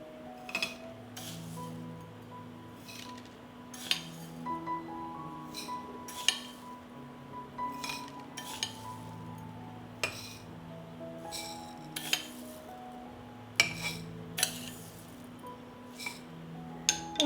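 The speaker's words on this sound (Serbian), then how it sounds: "U svaku teglu dodat ću po 3 supene kašike pirinča." Spoonfuls of rice dropped into glass jars, giving scattered sharp clinks and taps at irregular intervals, close but fairly quiet over a steady low hum.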